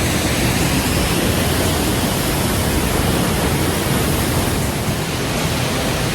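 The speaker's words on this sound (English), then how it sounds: "I hear a waterfall." Troll Falls waterfall in Alberta rushing nearby, a loud, steady broadband roar of falling water that stays constant throughout with no voices.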